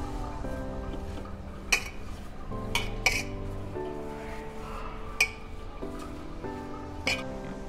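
A spoon stirs dough with oil and sugar in a bowl, giving soft mixing sounds punctuated by several sharp clinks of metal against the bowl at irregular intervals.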